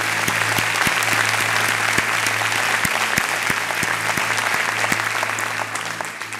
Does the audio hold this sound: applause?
yes